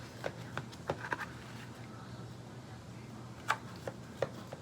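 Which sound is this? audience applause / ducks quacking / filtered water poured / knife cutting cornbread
knife cutting cornbread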